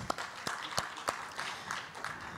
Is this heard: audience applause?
yes